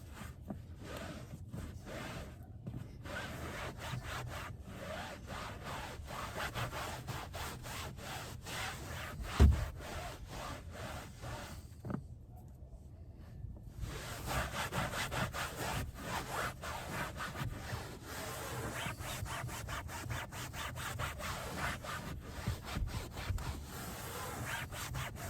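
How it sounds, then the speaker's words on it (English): A microfiber towel rubs and scrubs over fabric car seat upholstery cleaned with Chemical Guys fabric cleaner, giving steady close scratchy friction strokes with a brief pause midway, no talking. "I'm going to mop up the solution,"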